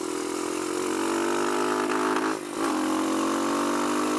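A Kawasaki KLX140 dirt bike engine with a running-lean carburettor holds a steady low-throttle drone up close, with one short dip in the middle.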